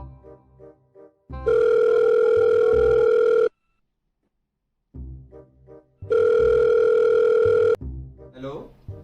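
A telephone ringing tone sounds during a call to a lawyer in a family home, heard as two long, loud, steady tone bursts separated by a gap, with people talking before and after.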